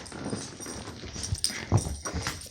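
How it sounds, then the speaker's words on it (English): A dog whimpers and yelps in short bursts while being pushed into its cage indoors, with thumps and scuffling nearby and no talking. "Fighting the dog for my survival."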